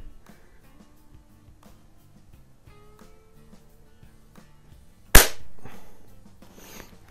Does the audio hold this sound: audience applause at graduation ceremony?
no